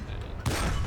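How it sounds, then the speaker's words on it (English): A single heavy cannon shot from a Soviet tank destroyer in War Thunder, a sudden loud blast partway through after a low rumbling background. "He just wrecked that PzKpfw-III now with one shot."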